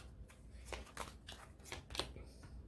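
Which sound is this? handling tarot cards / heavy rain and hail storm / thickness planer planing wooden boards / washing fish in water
handling tarot cards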